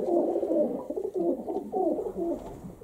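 Pigeons coo in a loft during pairing, with a steady run of soft, low, rolling calls that overlap one another, close by and continuous, with no talking.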